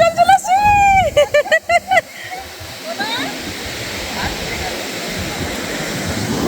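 Seawater surges up a beach in a steady broadband wash that lingers after a few seconds of lively talk between people nearby.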